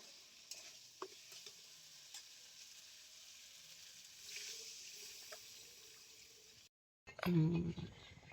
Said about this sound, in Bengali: এবার আমি দিয়ে দিচ্ছি মশলা বাটা জল